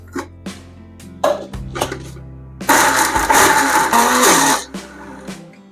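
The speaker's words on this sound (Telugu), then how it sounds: "చూడండి గ్రైండ్ అవుతుంది" Mixer grinder whirring loudly for about two seconds as it grinds ginger chutney with a little added water, preceded by a few sharp clinks and knocks of the jar and lid.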